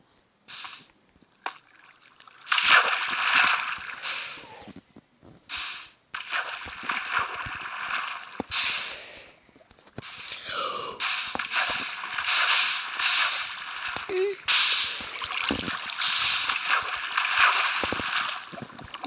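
Water splashes and gurgles from a bucket in the Minecraft video game mix with creaks and other clattering game sounds in uneven bursts, at moderate loudness.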